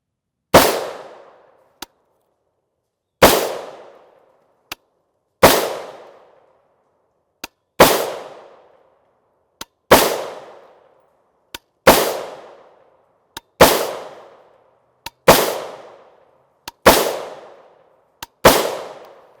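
Single gunshots from a 300 Blackout PSA rifle with a 7.5 inch barrel and Yankee Hill QD muzzle brake firing 150gr FMJ rounds, about ten loud sharp reports spaced evenly with echoing decays and faint clicks between.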